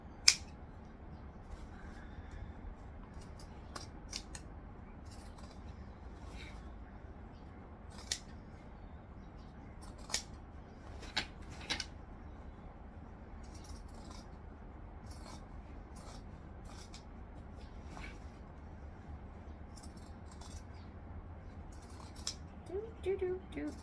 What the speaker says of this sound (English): Cutting along, making sure we're not cutting the stitches though, but we want to cut off this excess